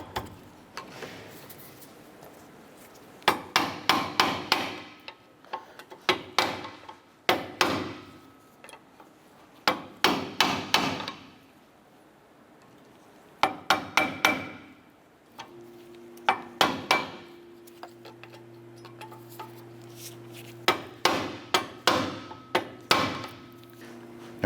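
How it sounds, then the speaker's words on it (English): Pry bar tapping the backing plate of a seized front brake pad on a 2008-2012 Honda Accord, sharp metallic knocks in quick bursts of several taps separated by pauses, close and clear with no talk. "Just going to use our pry bar and tap the brake pad backing plate"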